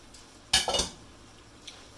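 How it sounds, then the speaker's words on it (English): A utensil scrapes and clanks through zucchini, peppers and mushrooms with ground turkey in a pan, heard as one short burst of clattering stirring followed by a faint later clink. "Stir that all in and let that go for a while."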